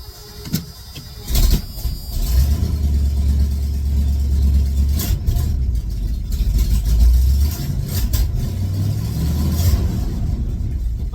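A 1984 Ford F250 truck, recently repaired for low oil pressure, drives down the road with a loud, steady engine drone and low rumble that builds after a brief start, continuing alone throughout.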